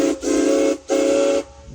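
Two long blasts of a steam train whistle at a railroad show, loud and close, each about half a second or more, with a hissy harmonic tone and brief gaps between.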